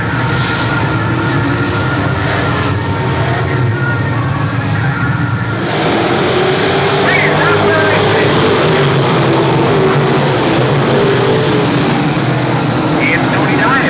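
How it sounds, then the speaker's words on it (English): Pro Stock race cars pulling away at Seekonk Speedway, a loud continuous engine roar from the field of cars with a swelling surge partway through. "Pro Stocks pull away, ready to go for 35 laps tonight."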